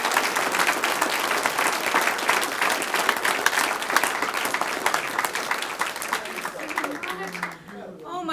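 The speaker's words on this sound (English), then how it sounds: "Let's give him another huge round of applause" An audience at an author visit bursts into sustained, full applause, dense clapping that stays loud for several seconds before fading, with a voice speaking as it dies away.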